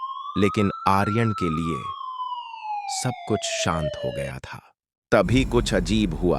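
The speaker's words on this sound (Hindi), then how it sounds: "सायरन की तेज आवाज कानों में गूंज रही थी।" A wailing emergency siren sweeps down in pitch over several seconds, loud and close, while someone narrates a story in Hindi over it; the siren fades out and the narration continues alone.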